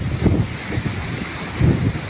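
Strong typhoon wind at the sea buffets the microphone in low, rumbling gusts, with a steady roar of surf underneath and two heavier gusts swelling up.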